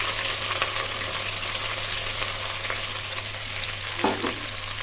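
Onions hitting hot oil with cinnamon, cloves and cashews for mutton biryani, a steady close sizzle and crackle running throughout, with a brief stir or splash near the end.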